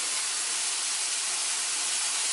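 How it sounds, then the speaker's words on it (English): Ground beef browning in a hot pan, a steady, dense sizzling hiss that stays loud and even throughout, without talk. "we're gonna brown off the beef, and we're going to add in a little bit of seasoning"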